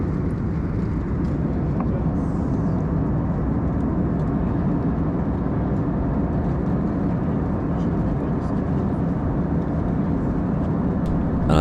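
Steady broadband roar of a British Airways A320 cabin descending toward London Heathrow, engine and airflow noise filling the space evenly and loudly throughout, with no voices heard.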